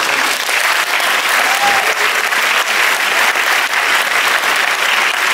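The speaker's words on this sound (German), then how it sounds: "Herzlichen Applaus" Loud, steady applause from an audience at a film premiere talk event, dense and continuous clapping sustained throughout without letting up.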